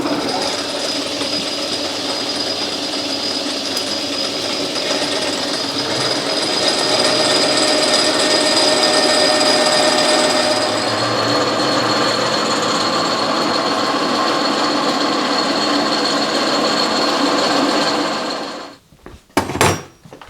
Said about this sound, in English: I'll bore that to 3/4 inch and then use a boring bar